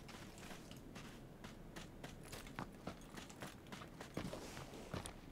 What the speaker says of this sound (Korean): 발소리 들려요?